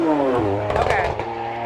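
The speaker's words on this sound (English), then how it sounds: "You would think that's a Lamborghini going by. It wasn't. It was some sort of hoopty." An old beater car revs as it drives by, a short rising engine roar that crests and fades within two seconds, with background voices nearby.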